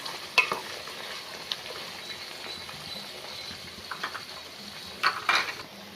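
Dried red chillies sizzle in a pan for kulambu with a soft steady hiss, punctuated by a few light clinks and scrapes of a spoon against metal, quiet and close.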